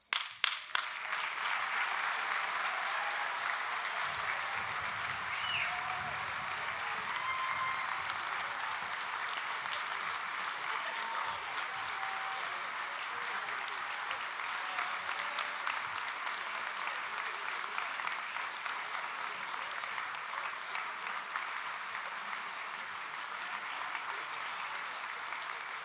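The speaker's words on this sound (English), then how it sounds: "That's a lot of applause" A graduation ceremony audience gives long, sustained applause in a large hall, a dense, steady wash of many hands clapping that holds at an even level for about twenty-five seconds.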